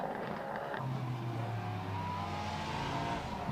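A race car's 5-litre Ford Coyote V8 runs at Estoril, sustaining a steady, fairly smooth engine drone that rises in pitch partway through, heard at moderate distance with no speech over it.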